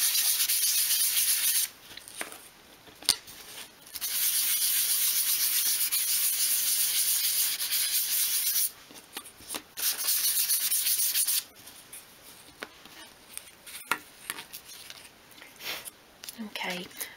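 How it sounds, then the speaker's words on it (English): Fine grain sandpaper rubbing over small wooden bed parts for a 1/12 scale double bed, a steady close scratchy hiss in long strokes with brief pauses between passes. "So just use your finer grain sandpaper and just sand to remove any splinters."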